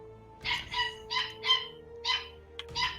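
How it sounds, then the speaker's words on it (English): A pet dog, excited, gives six or seven close, moderately loud yelps or barks in an uneven rhythm over a quiet background hum. "That's my dog."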